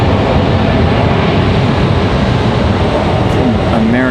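American Airlines airliner in Allegheny retro livery at Raleigh-Durham airport, a loud, steady broadband jet roar that fills the whole span without a break.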